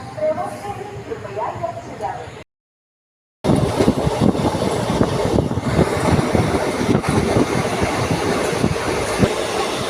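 A moving train bound for Mumbai Chhatrapati Shivaji terminus rumbles loudly and steadily with rattling wheels, cutting out briefly near the start, while a voice talks over it.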